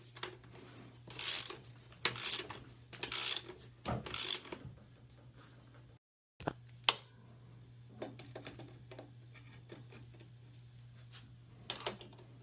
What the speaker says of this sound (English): tighten the stabilizer bolt using a 15/16 socket and an adjustable wrench